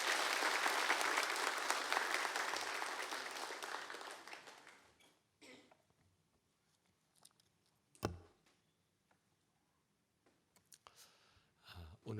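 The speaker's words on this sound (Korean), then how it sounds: "나오실 때 큰 박수로 환영해 주시길 바라겠습니다" Congregation applause at a church revival service welcomes a preacher to the pulpit, a loud burst of clapping that fades out over about five seconds, followed by quiet room noise with scattered clicks and small knocks.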